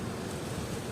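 Strong wind buffeting the microphone outdoors, a continuous low roaring rush with no voices, steady and close throughout the short stretch.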